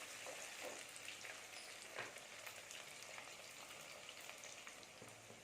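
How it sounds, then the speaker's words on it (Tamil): Small onions sizzle and fry in oil in a pan for a South Indian kara kuzhambu, a faint steady crackling hiss with occasional stirring, no voices. "வெங்காயம் நல்லா வதங்கிருச்சு."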